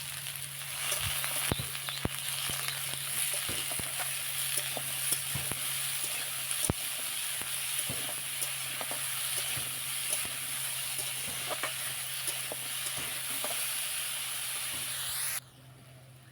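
Ridge gourd frying in oil with turmeric in a kadai, unsalted, for jhinge posto: a loud, even hissing sizzle broken by frequent small clicks and pops of stirring, then cut off abruptly near the end.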